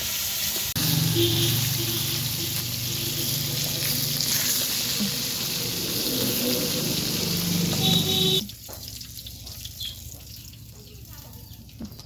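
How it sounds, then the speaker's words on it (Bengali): Chopped onion and slit green chillies hit hot oil in a clay pot, a loud steady sizzle that runs for several seconds before dropping abruptly to a quieter simmer, with a voice talking over it. "এখন এই তো তেলের মধ্যে দিয়ে দিলাম পেঁয়াজ কুচি ও কাঁচামরিচ চেরা"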